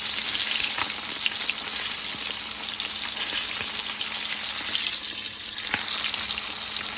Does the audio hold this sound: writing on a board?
no